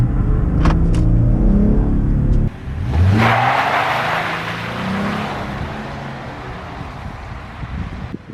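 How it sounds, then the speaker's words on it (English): A 2020 Jeep Gladiator Sport engine revs hard in a burnout attempt, a loud sustained roar that rises, dips briefly, then surges again and slowly fades while still running, with no talking. "Every now and then you want to put the pedal to the metal and do a little burnout or something."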